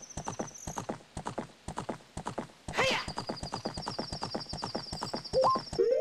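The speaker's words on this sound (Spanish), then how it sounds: "Vamos a caballito." A horse gallops in Zelda: Ocarina of Time, its hooves clip-clopping in a quick, even rhythm, with a short whinny midway and game chimes layered over it.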